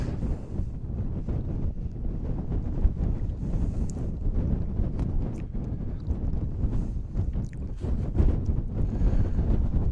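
Strong gusting wind buffeting the microphone at a wild camp on Mynydd Mawr mountain, a loud continuous low rumble with rapid irregular buffets and no speech.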